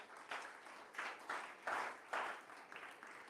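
A church congregation applauding in bursts of clapping that swell and fade over a few seconds, moderately loud and with no speech over it.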